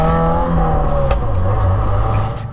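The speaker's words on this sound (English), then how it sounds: "And the burble sound that it makes. Man, I love that burble." A 2025 Subaru WRX tS turbocharged engine burbles loudly and close, a continuous low rumble with shifting engine tones, and no voices.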